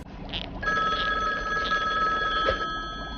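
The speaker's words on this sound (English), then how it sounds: "A ringing phone." Telephone bell ringing: a rapid metallic trill of a ringing phone, steady and close over about three seconds, without voices.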